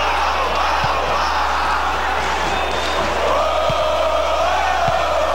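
A stadium crowd in the Bomba Patch football video game, Cruzeiro against Atlético Mineiro, roars steadily and swells partway through, with a few thuds of the ball under the constant noise.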